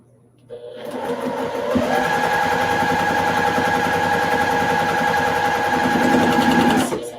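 A sewing machine stitches a seam in a steady, rapid whirring run lasting several seconds, loud and close, with the speed rising shortly after it starts.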